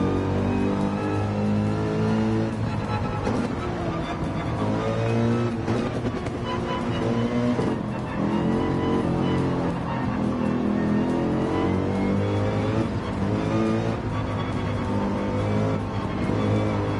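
A race car engine from the Gran Turismo 7 video game roars loudly and continuously, with another car close by, revving and shifting throughout with occasional tire squeal.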